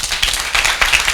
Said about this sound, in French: et je pense que ça doit pouvoir s'applaudir.